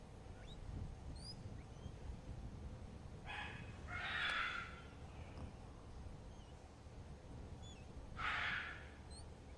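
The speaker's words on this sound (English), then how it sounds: "Maybe we need to turn that little dog loose on that calf. She sounds like she's ready." A small female dog barks at a rodeo calf event, giving two or three short, high yapping bursts that rise out of a faint, steady background rumble.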